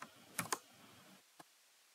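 A few quiet clicks on a computer keyboard, a quick pair of keystrokes then a single tap after a pause, close and isolated with no talking.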